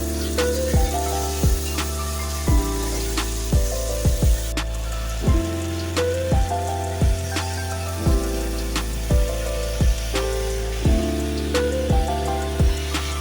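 Karmi greens frying with green chilli, salt, turmeric and ginger-garlic paste, a loud constant sizzle with regular clinks and scrapes of a spatula against the pan, no talking.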